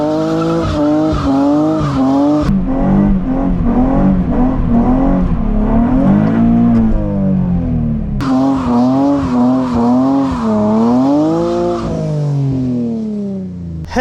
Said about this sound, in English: Now we could go ahead and do launch control.